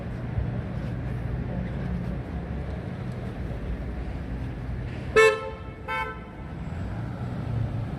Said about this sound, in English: Yeah, honk honk.